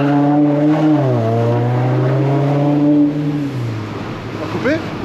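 A VW Golf Mk6 GTD held on launch control with steady engine drone, then the revs dip and climb as it pulls away on a 200 m run, the engine tone fading toward the end, voices heard around it.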